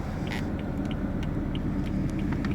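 A BMW M4 with carbon ceramic brakes and 19-inch wheels drives along, giving a low, steady engine rumble and road noise, faint and without talk.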